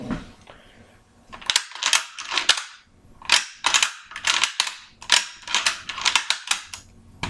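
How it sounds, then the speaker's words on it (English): A Mosin Nagant 91/30 rifle being dry fired after reassembly, a series of sharp metallic clicks and clacks from the bolt and trigger, close and fairly crisp with faint talk at the start. "It's not good to dry fire, but just to ensure that it works"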